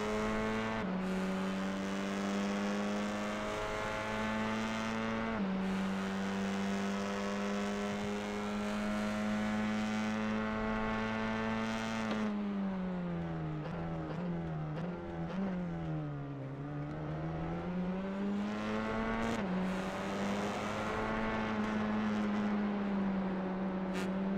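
TCR touring race cars lap the Nürburgring GP in a sim racing game, with a loud sustained engine drone that stays level, dips as the cars slow through a corner, then climbs again under hard acceleration.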